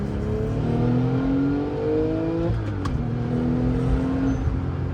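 A rebuilt Porsche 911 Turbo with an aftermarket exhaust and intercoolers revs hard and close, its engine pitch climbing, dropping and climbing again in a loud, steady roar with no voices.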